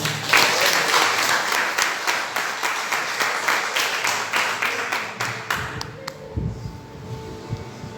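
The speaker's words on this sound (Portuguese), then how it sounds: "as palmas vêm do Senhor" Church congregation applauding, dense rhythmic clapping with a steady pulse that carries for several seconds before thinning out, as voices and low sounds take over near the end.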